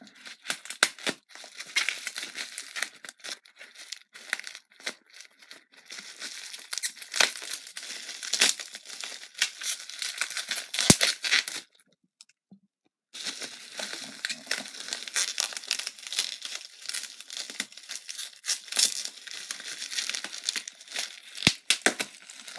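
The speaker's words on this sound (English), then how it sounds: "All right, all bubble wrapped." Dense crinkling and crumpling as bubble wrap is pulled off a mailed care package, with sharp tearing crackles and a brief pause midway, close and steady throughout.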